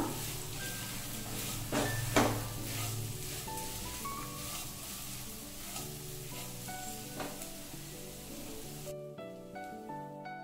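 Grated coconut fries in a pan for coconut rice, sizzling steadily with stirring scrapes and a few louder spoon knocks, then the sizzle fades sharply near the end.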